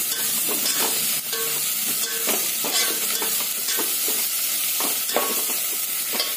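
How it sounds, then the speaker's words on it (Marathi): Ginger-garlic paste sautéing in oil in a pot for chicken biryani, a loud continuous sizzle with repeated scraping stirs of a spoon, close up. "त्याच्यामध्येच आपण आलं लसणाची पेस्ट घालून घेणार आहोत. थोडंसं तेलावरच परतवून घेणार आहोत."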